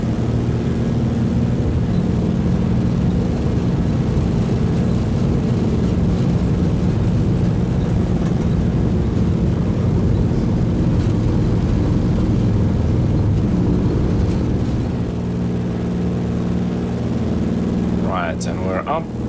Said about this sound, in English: Now you get to hear that engine.